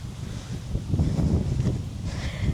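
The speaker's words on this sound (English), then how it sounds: "Oh my god, it's so windy." Strong wind gusting at a campsite, a loud continuous roaring rumble that swells and buffets the microphone throughout, with no other clear sounds.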